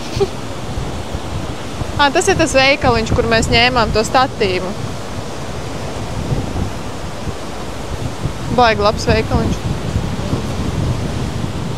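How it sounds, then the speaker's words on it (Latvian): Steady wind roars on a seaside promenade, a broad, constant rushing noise throughout, with brief bursts of nearby talking over it. "Nu šodien ir vienkārši vējains."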